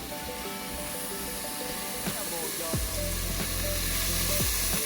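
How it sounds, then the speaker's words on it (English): A chopped yellow onion sizzles steadily in a hot pan, loud and close, with a few stirring clatters and no talk. "I have one yellow onion and I'm just gonna saute that for about 4 to 5 minutes"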